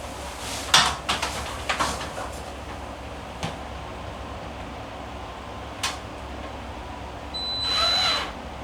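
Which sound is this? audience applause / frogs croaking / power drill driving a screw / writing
power drill driving a screw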